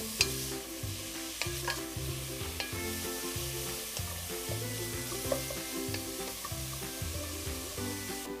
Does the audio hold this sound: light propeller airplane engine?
no